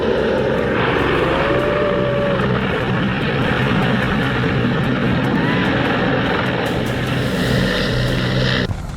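Steady, loud drone of a propeller airplane engine throughout, with a rising whine briefly audible, no talking.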